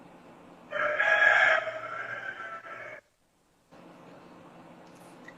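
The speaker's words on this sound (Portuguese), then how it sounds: "Tem um galo que está cantando aqui" A rooster crows loudly and close by in a single long cock-a-doodle-doo, harmonic and sustained, then a brief silence before faint background hiss resumes.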